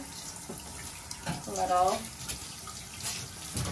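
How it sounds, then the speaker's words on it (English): Water runs from a tap during a dog's bath, a steady soft splashing rush under brief speech, with a swell of louder gurgling midway. "I'll let the water run for a while."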